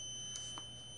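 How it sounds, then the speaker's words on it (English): An Arduino buzzer on pin 9 sounds a steady, faint electronic tone when an E18-D80NK IR proximity sensor detects an obstacle, with no talk. "So this is the pin 9 that I've connected the buzzer, that you hear the sound."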